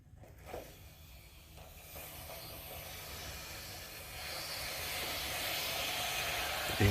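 Water rushes out of the drain valve of a State water heater during a flush. The broad, hissing flow is faint at first and builds to a steadier, louder rush, with no talking.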